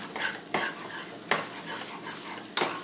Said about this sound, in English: once you get your eggs nice and good, scramble them up